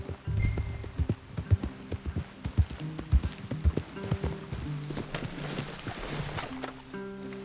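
Horses walk with uneven hollow hoof clops, close and moderately loud, under a sustained musical drone, in the video game Red Dead Redemption 2.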